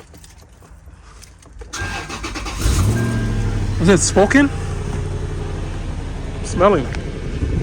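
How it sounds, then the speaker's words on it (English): A Lexus GX-470 engine cranks and catches after a quiet start, then settles into a steady idle with two short revs rising and falling, while a person talks nearby. "Let's go ahead and give it a little rev and see."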